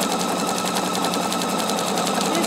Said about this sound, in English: I'm going to sew this one a bit.